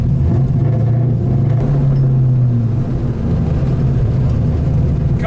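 An LS-swapped Mazda Miata engine drops back to idle, a loud close rumble that settles from a falling drone into a steady low burble, inside the car.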